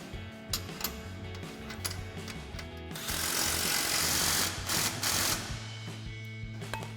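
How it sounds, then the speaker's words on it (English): A wrench and 21mm swivel socket tightening a suspension nut on a Jeep Gladiator JT during a SkyJacker lift install, giving steady clicking and ratcheting with a louder metallic burst midway, close and without talk. "Then we can tighten this down with a 21mm swivel socket and a 13/16 wrench."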